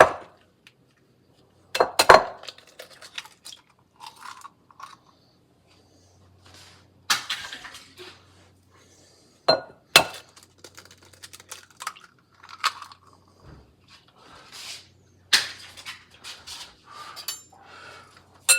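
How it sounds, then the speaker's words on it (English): Two raw eggs are cracked into a mixer bowl while making pumpkin waffles: scattered sharp taps and clinks of shell against the bowl, with quiet gaps between them. "Now in another mixer bowl, put in 2 raw eggs."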